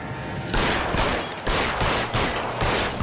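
Rapid gunfire in LA Noire, loud bursts of repeated shots in several volleys with brief gaps between them, close and dominating.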